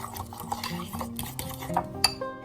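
Cream cheese spread with powdered sugar and milk is stirred in a bowl, giving quick scraping strokes and light clinks of a utensil against the dish, close and fairly quiet.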